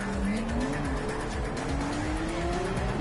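Race cars in Gran Turismo 7 roar through a corner, engine pitch sliding up and down as they accelerate, with tire noise and a continuous, dense drone.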